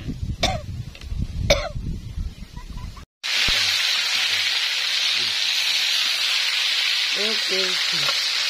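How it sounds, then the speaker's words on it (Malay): Cheese fries in a pan with a loud, steady sizzle and hiss that starts abruptly after a short pause, while people talk nearby before and during the frying. "keju digoreng mateng guys"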